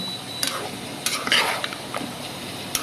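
Potatoes cook in a pot on a stove, with a soft sizzle under several scattered metallic clinks and scrapes from stirring.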